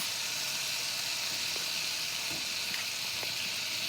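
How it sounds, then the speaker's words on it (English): Scallops sizzle loudly in a hot pan for a steady, continuous hiss, with a few faint clicks, close and without talk. "So now I'm going to add the scallops."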